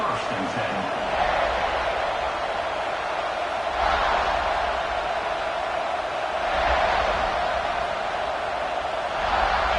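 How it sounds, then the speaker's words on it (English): Stadium crowd noise from an NCAA college football video game, a steady roar that swells in waves, while a commentator talks over it throughout. "This crowd ready to make its presence known."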